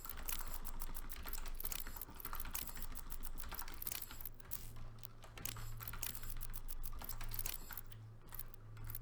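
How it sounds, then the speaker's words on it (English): Keys on a computer keyboard clatter in quick irregular bursts during map editing in a game, a constant close tapping over a soft low hum. "I can imagine you just hear a bunch of clanking on the keyboard constantly."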